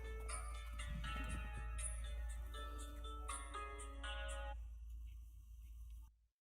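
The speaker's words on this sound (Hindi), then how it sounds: "आपका फोन आ रहा है" A phone's electronic ringtone plays in a repeating melodic pattern, clear and close, then cuts off abruptly near the end.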